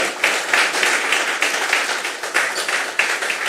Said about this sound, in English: I want a real clap to the Member of Parliament for bringing you to Mayaro to this event.